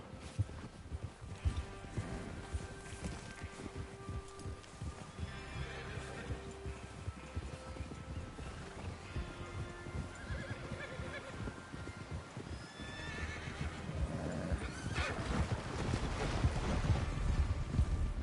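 Horses whinny and snort amid the clatter of hooves and wind in the video game Red Dead Redemption 2, with movement building louder toward the end and no clear talking.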